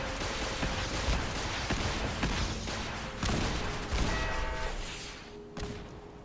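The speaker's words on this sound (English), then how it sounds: "The turrets are firing for me." Automated turrets in the video game Fallout 4 fire in a dense, continuous barrage, with repeated heavy thumps and bursts layered over a busy game soundscape for several seconds.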